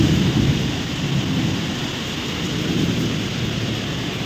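Heavy thunderstorm with hail and rain, a loud steady broadband roar of pelting precipitation with a deep rumble near the start, continuous for the full length with no talking.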